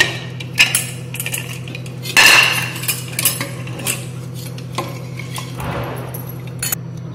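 Metal clinks and scrapes ring out as the lid is taken off a cooled pressure cooker and the tender cooked mutton is stirred with a ladle, giving irregular close-up clatters with one louder burst of clanging.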